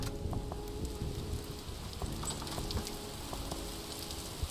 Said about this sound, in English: This rain is nasty.